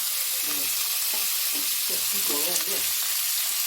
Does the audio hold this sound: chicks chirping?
no